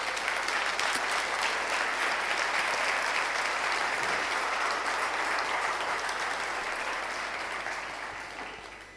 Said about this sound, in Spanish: ¿Quién quiere darle un aplauso al Señor por ello?